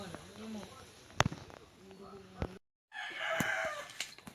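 Chickens cluck and a rooster crows intermittently amid outdoor background noise, with a brief silent gap midway.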